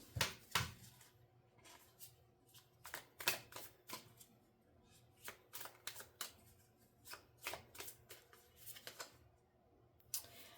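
Oracle cards shuffled by hand in repeated quick riffling bursts with short pauses between them, soft and close in a quiet room, no one speaking.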